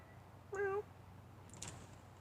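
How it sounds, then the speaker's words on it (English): A single short meow from a big house cat, faint and somewhat distant over low background hum, followed by a brief soft rustle. "Chuck, you big kitty."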